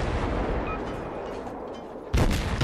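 Deep booming naval gun salvo from the tier 7 American destroyer Mahan in World of Warships, a rumbling roar fading out before a second heavy blast hits near the end.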